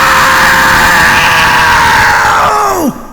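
A loud, sustained human scream imitating an animal's shriek, holding steady for nearly three seconds before its pitch drops and breaks off abruptly into near silence.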